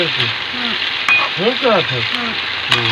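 Loud, steady sizzling and crackling of spices frying in hot oil, with a voice speaking over it now and then.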